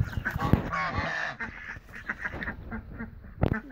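Ducks honk and quack close by at a village pool, a run of loud, raspy calls with short pauses between bursts.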